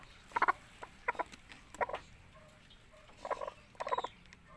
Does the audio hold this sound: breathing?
no